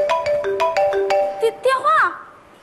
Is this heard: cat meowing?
no